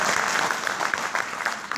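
Audience applause at a live talk in Lucknow: dense, steady clapping from a crowd, fairly close and sustained throughout with no pauses.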